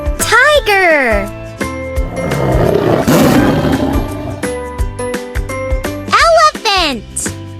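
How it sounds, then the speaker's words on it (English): A tiger's roar for a children's animal sounds lesson, loud and sweeping, surrounded by music and sung or spoken tones rather than heard alone. "Tiger."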